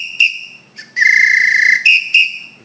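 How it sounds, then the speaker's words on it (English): Samba whistle blown in a drum shop, shrill piercing toots: two short blasts, a long sustained trill, then two more quick sharp blasts, loud and close. "I have a couple samba whistles."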